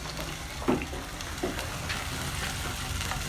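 Oil sizzling and crackling steadily in a pan for cooking meatballs, with a few spoon scrapes and stirring knocks near the start, close and continuous with no talk.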